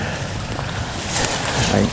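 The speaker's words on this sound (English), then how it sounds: "there's tons of water flowing through here" Water flowing through a muddy, rain-soaked abandoned golf course makes a steady, broad rushing wash, joined by gusty wind buffeting the microphone that swells louder toward the end. No one speaks.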